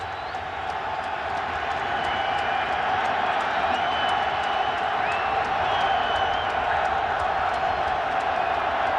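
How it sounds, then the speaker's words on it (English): Football stadium crowd roaring near the end zone during a 2008 NFL playoff game between the Jaguars and Patriots, a dense continuous wall of cheering and whooping that holds loud and steady throughout. "The crowd's going crazy."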